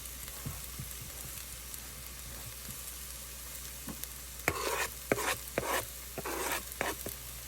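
Onions and garlic sizzle in a pot under a low continuous hiss, then a spoon stirs them with several louder scraping, crackling bursts in the second half; no voices.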